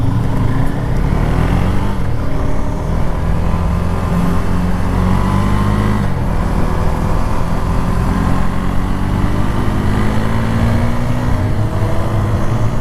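A KTM Duke 390 motorcycle engine runs loud and close on the road, its pitch climbing through each gear and dropping at the shifts, with wind rushing steadily and no voices.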